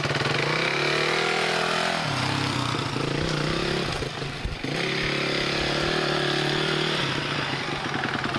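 A motorcycle fitted with a Rekluse EXP 3.0 clutch sits in first gear, its engine idling close and loud, then revving up in a rising, sustained drone and settling back toward idle.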